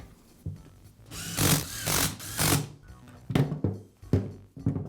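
A handheld power driver whirs in several short bursts, spinning screws into the rear handle of a DeWALT power shear, with brief pauses and clicks between runs, close by.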